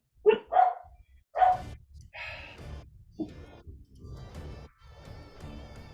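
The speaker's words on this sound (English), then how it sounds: "Loud dog is being loud." A loud dog gives several sharp barks close by in bursts, mixed with breathy, sigh-like noises and some game-like tones, with no clear speech.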